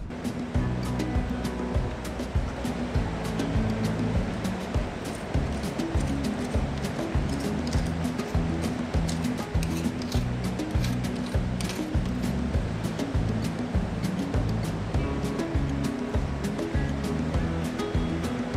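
Small gravel and bedrock material swirled in a gold pan with water, a continuous wet sloshing and gritty rattling of stones that surges and eases in steady rhythmic washes, moderately loud and close.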